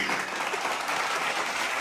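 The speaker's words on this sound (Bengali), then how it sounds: "জোরে হাততালি হবে সবাই মিলে।" Crowd at a film event breaks into loud, sustained clapping, a dense continuous wash of many hands with no pause and little voice audible.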